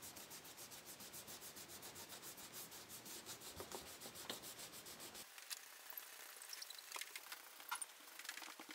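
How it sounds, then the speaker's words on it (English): Pencil eraser rubbed lightly back and forth over a pencil drawing on paper, a steady run of soft close scrubbing strokes that turn quicker and more uneven toward the end, with no talking. "Get your eraser and just lightly go over everything."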